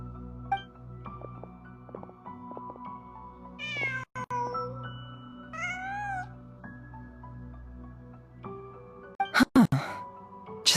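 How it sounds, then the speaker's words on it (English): Several meows from a cat in a fantasy video game, drawn-out harmonic calls around the middle over a steady ambient music bed, with a few sharp clicks near the end. "Just a cat."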